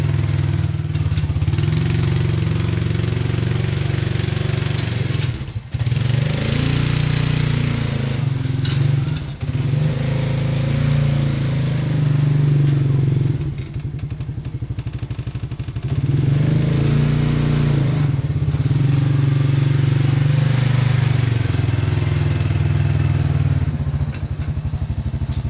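ATV engine pulling a Black Boar chisel plow to loosen dirt while leveling a lawn: a loud, close, steady engine drone that rises and dips under load, with brief clattering changes in between.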